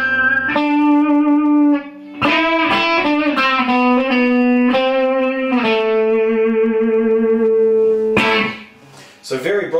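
Bright Levinson Blade electric guitar from Switzerland, played through effects with distortion and reverb: sustained single notes and short chord hits ring out loud and close, with a burst of picking near the end.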